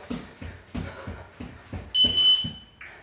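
Rhythmic thuds from a sandbag workout give way to a loud electronic interval timer alarm that beeps in high bursts near the end.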